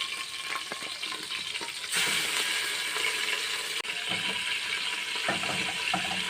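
Chicken pieces hitting melted butter in a hot pan give a loud, continuous sizzle that jumps in intensity partway through, with occasional clatter from stirring and no voices.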